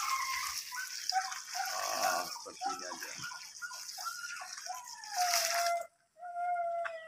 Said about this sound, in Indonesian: saya akan menyiramnya